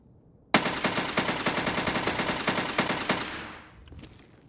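RSAS semi-automatic rifle firing in Escape from Tarkov, a loud close string of about twenty evenly spaced sharp shots in rapid succession, ending with a fading echo and faint mechanical clicks.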